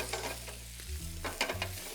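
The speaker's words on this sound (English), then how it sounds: "So the peppers are, you see they're starting to brown up." Shishito peppers and onions sautéing in a pan, a steady sizzle broken by a few scraping stirs, close and clear, with no voices.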